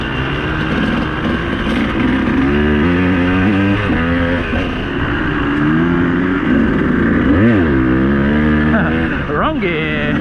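A 200cc dirt bike engine revs and bogs in the wrong gear on a single-track trail, its pitch rising and falling in loud, continuous waves with a sharp rev near the end, while someone talks over it.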